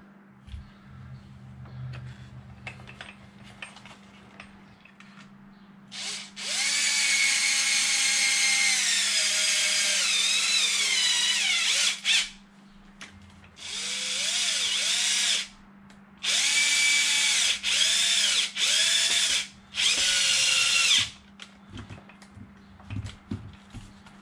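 A power drill drives bolts back onto a Losi DBXL 32cc RC car, whirring in several close, loud bursts of varying pitch, each ramping up and winding down, with short pauses between and a low steady hum beneath.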